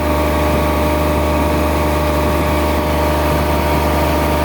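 Speedboat engine running steadily on the Massanjore Dam reservoir on the Mayurakshi River in Dumka, Jharkhand, ringed by hills; a loud, constant near drone with a low hum, heard alone without talk.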